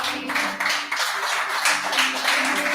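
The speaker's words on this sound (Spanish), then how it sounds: "Denle un aplauso al Señor." A church congregation applauding during a service, continuous close clapping with a sustained low tone or hum running beneath it and no voices on top.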